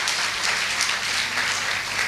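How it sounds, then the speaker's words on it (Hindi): Audience applauding at a motivational network marketing talk, steady dense clapping throughout with no gaps, heard alone. "तालियां बनती है।"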